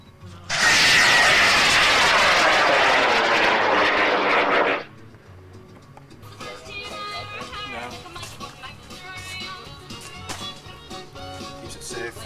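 A model rocket motor fires with a loud roaring hiss for about four seconds, then cuts off abruptly, leaving quieter background sounds of the launch site.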